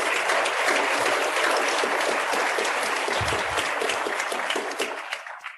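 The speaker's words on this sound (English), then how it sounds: "Now let's give her a round of applause." Sustained audience applause at a business event on esports, loud and dense throughout, tapering off slightly at the end, with no talking over it.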